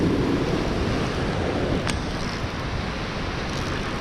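Ocean waves break on the beach at Fort Morgan, Alabama, as a steady rushing wash muffled by heavy wind noise, with no voices.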